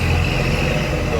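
Sinar Jaya intercity bus engine rumbling as the bus departs, a steady low diesel drone close by with a faint voice over it.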